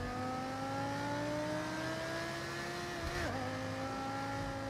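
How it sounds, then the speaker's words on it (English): A high-revving V10 sports car engine in Forza Horizon 6 holds a smooth, rising whine, briefly dips as if shifting, then climbs again; steady and prominent with no talk. "Sounds like an M5 V10."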